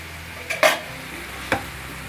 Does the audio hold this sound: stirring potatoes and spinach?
yes